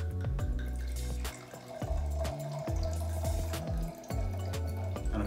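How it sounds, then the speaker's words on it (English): Wine is poured from a bottle into a Steelite Rocco Bormioli wine glass, a close, steady gurgling trickle of liquid filling the glass, heard alone without speech. "pouring the glass of wine in my favorite Steelite Rocco Bormioli wine glass"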